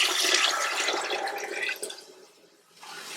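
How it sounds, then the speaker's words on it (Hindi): Water is poured into a pressure cooker for mixed dal, a steady splashing gush that tapers off after about two seconds, with a brief trickle near the end. "तो इसमें सबसे पहले पानी डालते हैं"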